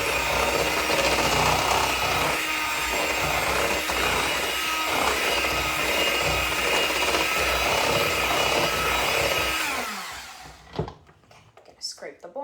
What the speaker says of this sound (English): we're going to mix this together thoroughly